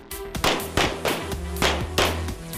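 A rapid series of sharp pistol shots at target practice pops out at a fairly steady rhythm, about six cracks in close succession, loud and close.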